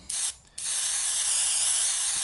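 A short spritz of weathering pigment spray, a brief gap, then one long continuous hiss from the spray bottle lasting nearly two seconds, close and steady with no voices.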